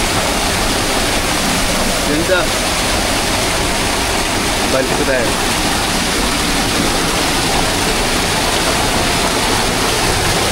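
Waterfall with strongly flowing and falling water in a natural setting, a loud continuous rushing roar close by, while someone speaks briefly over it.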